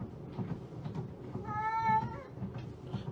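A Bengal cat gives a single drawn-out meow in the middle, clear and fairly close, over a background of low rumbling and soft indoor noise.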